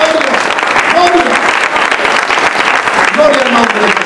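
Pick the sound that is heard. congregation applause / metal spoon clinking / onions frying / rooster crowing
congregation applause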